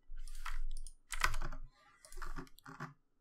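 Code is typed on a computer keyboard for a Unity game in bursts of clattering keystrokes, close and fairly clear, with short pauses between runs and no voices.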